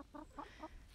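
Pet hens give three short, soft clucks in quick succession, close and quiet on a cold day with their rooster nearby.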